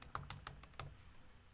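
Typing on a computer keyboard, a quick run of about six close, light key clicks in the first second, then quiet.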